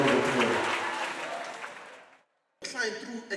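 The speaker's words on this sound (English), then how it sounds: "Give yourself a round of applause." An audience's round of applause at a talk on organisational culture, a dense burst of clapping that fades out, a brief silence, then a voice speaking.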